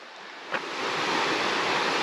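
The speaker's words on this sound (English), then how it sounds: "The backdrop of the creek below." A creek flowing below a hiking trail on Panther Creek, a broad steady rushing wash of water heard continuously from a short distance.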